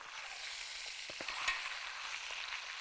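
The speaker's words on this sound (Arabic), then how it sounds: "نقلب الجزئيه اللي فوق عشان ابتدي اقفل مسامات الفراخ كلها" Chicken pieces fry in a pan and get turned with a fork, a soft continuous sizzle with a few light clicks of the fork against the pan, quiet and without voices.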